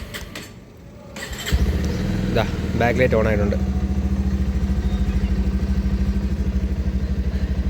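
A Bajaj Pulsar 150 Twin Disc ABS motorcycle cranks briefly, catches and settles into a steady, close-up thumping idle while someone speaks over the start.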